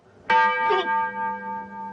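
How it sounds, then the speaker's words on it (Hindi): A clock strikes one in a Hindi film scene, a single loud bell-like chime with a sharp attack and a long, steady ringing decay holding for about two seconds, heard alone without talk. "सर ये दिल का घंटी नहीं था सर, घड़ी का था। 1 o'clock लंच ब्रेक।"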